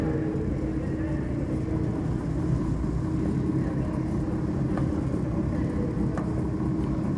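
Steady, continuous whirring hum of a gyroscope's rotor motor spinning in a lab experiment, even in loudness for the whole stretch with no talking.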